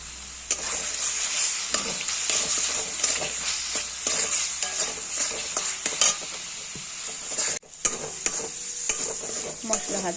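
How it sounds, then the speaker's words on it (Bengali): Ground spice paste with Kashmiri chilli powder frying in oil for a katla fish curry, a bright steady sizzle broken by repeated spatula scrapes and stirring taps, close up, with a brief drop near the end. "মশলা ভাজা হয়ে গেছে,"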